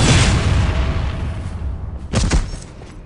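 Heavy gunfire and explosions in a battle from the Dawn of War: Dark Crusade strategy game, a dense roar of booms and shots early, then a sharp cluster of loud blasts near the end.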